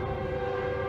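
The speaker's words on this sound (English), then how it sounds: "There, a train just went by." A distant train passes outdoors near a climbing area, a steady low rumble carrying a sustained tonal hum, faint and continuous throughout the short moment.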